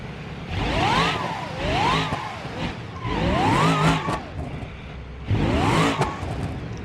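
A drag car built from a gravel Barstow in the BeamNG game revs its engine in four separate bursts, each pitch climbing and falling, loud and close with no talk.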